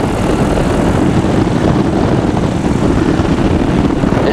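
A Sub 70 flexwing microlight's engine drones loudly and steadily in flight, a dense, unbroken propeller roar mixed with rushing wind, with no talking over it.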